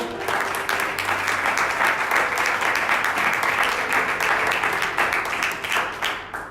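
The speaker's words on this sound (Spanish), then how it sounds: "¿Cuánto le pueden dar un aplauso al Señor?" Applause rises from a church congregation, a thick, continuous clatter of many hands clapping at a fairly loud level, holding steady for several seconds before thinning slightly at the end.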